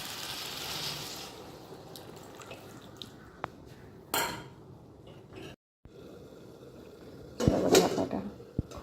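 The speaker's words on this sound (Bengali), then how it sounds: "এবার জল দিয়ে দেবো।" Water poured into a small cooking pot of sugared food, heard as a few scattered drips and liquid splashes with light pot clatter, quiet and close, a louder burst of splashing near the end, no talking.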